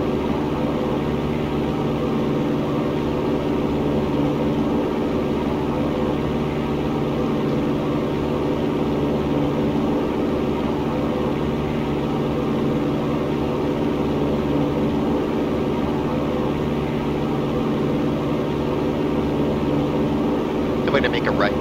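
Light airplane engine droning steadily as the plane climbs out after takeoff, a loud, constant cabin roar with no letup throughout, a voice speaking over it.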